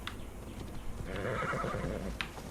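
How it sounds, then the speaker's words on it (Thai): A horse in the Assassin's Creed Odyssey video game gives a loud, drawn-out whinny lasting about a second, with a few soft hoof clops around it and no talking. "เรียกม้ามาเลย"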